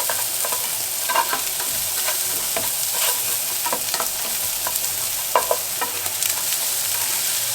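Onions sizzling in a hot pan while being stirred for sausage burritos, a continuous loud fry with repeated scraping strokes and crackles, close up and free of speech.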